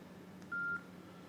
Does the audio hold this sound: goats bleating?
no